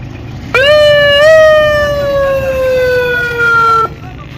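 An ambulance siren blares close by in one long, steady wail for about three seconds, then cuts off abruptly.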